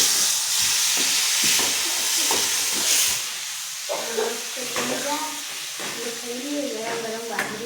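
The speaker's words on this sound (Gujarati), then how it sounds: "ખાલી તડકો લગાવું મસ્ત" Chutney with chillies being tempered in hot oil sizzles and hisses loudly, the frying noise gradually settling as a voice talks over it in the second half.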